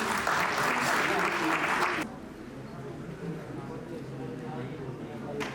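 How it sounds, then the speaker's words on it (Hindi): Guests at a farewell event at CTI Ranchi applaud to welcome a speaker, loud clapping for about two seconds that cuts off into quieter room murmur. "श्री महेंद्र जी का जोरदार तालियों के साथ स्वागत करें"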